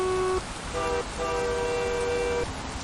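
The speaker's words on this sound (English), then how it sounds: "My horn sounds like a train horn." A truck's horn in the American Truck Simulator game sounds three times in short succession, a loud, steady, train-like multi-tone blast with the last note held longest, over road noise.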